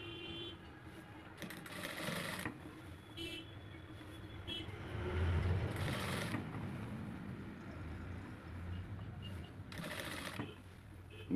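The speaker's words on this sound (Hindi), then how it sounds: "यहाँ पर हम यहाँ से सिलाई लगाएंगे" A sewing machine stitches the side seam of a shirt, running in steady bursts with short pauses between runs and a continuous hum in the background.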